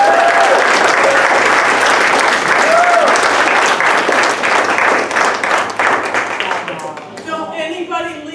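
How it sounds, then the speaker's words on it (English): Enthusiastic applause from a crowd at a 60th birthday event, dense clapping with a few cheers that holds strongly then thins out, giving way to a voice speaking at the end. "And another round of applause for my wife, Carol."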